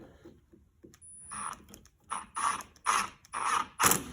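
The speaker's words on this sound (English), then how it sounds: "it's just a drill driver" A cordless drill driver whirring in short bursts during an ATV handguard installation, about six pulses that grow louder and longer, with a faint whine between them.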